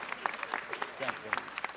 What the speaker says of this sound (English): let's give him a huge round of applause for his hard work and dedication